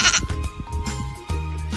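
A person imitates a goat's bleat in a short, wavering, nasal cry lasting under two seconds, close and fairly clear with no other voices.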